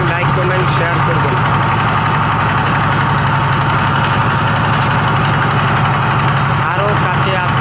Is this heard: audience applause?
no